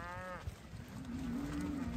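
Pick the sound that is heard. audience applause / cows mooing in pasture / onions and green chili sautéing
cows mooing in pasture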